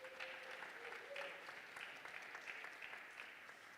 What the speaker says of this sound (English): make up another round of applause for Aisha